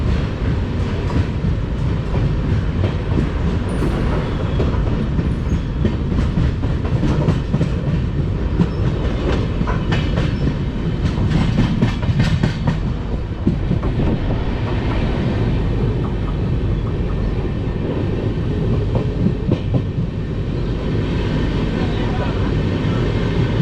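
Jodhpur Jaipur Intercity Express (High Court Express) rolls along the rails with a steady loud rumble and rhythmic wheel clatter, heard continuously from on board.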